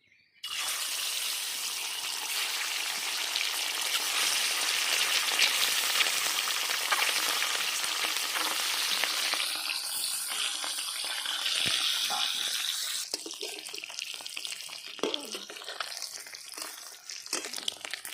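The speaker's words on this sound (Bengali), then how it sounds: "এবার আমি বন্ধুরা ডিমগুলো লবণ হলুদ দিয়ে মেখে নিয়েছি এবার ভেজে নেবো" Whole eggs coated in salt and turmeric fry in hot mustard oil, giving a loud, continuous hissing sizzle that later thins and crackles irregularly. The sound is close and there is no talking.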